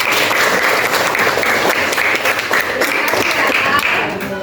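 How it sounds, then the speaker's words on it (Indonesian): A classroom of students applauds loudly and continuously for several seconds, dense clapping close up with no pauses. "Beri tepuk tangan untuk"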